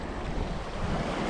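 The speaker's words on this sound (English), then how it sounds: "It's really windy right now." Strong wind roars and buffets the microphone in a steady, loud rush at a mountain reservoir.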